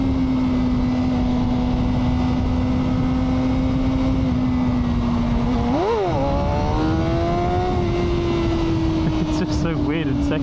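A Suzuki GSXR motorcycle engine accelerating hard in first gear for a wheelie, a loud, close, steady drone that rises in pitch midway, then settles and climbs again, with wind buffeting throughout.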